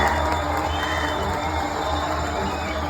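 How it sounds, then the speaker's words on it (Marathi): A theatre audience at a sold-out comedy stage show cheers and claps, a loud continuous roar of voices, whoops and applause filling the hall without a break. "प्रेक्षकांचा उत्साह आणि टाळ्या थांबतच नव्हत्या"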